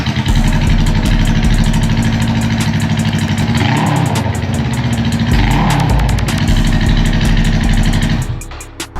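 A Honda Rebel 500 motorcycle with a Vance & Hines straight-pipe exhaust idles loud and close, a steady throaty rumble with pulsing lumpy beats and two brief rev swells before it cuts off.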